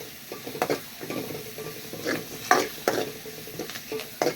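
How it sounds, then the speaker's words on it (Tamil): Food sizzles and crackles in a hot pan while sautéing for Madurai-style mutton curry and rasam, with intermittent stirring scrapes and spatters close by. "நல்லா வதக்கிங்க."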